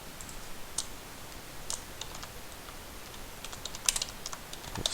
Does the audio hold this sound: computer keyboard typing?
yes